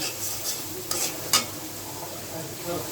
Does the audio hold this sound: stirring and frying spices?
yes